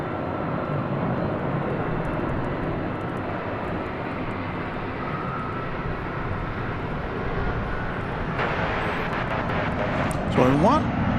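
American Airlines jet from Los Angeles arriving at DFW Airport at night, a steady broad engine roar heard from a distance, swelling slightly toward the end, with a voice talking over it.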